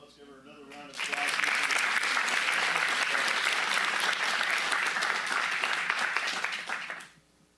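An audience at a Sutter County Board of Supervisors meeting breaks into full, sustained applause after a brief voice, the dense clapping holding steady for about six seconds before cutting off sharply.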